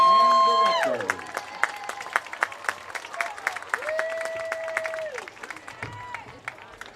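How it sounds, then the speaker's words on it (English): A stadium crowd at a Ripley Tiger high school football game applauds the Ripley High School band alumni and directors. A dense burst of clapping thins into scattered claps under sustained tones and distant crowd noise. "Let's give one more round of applause for all of our Ripley High School band"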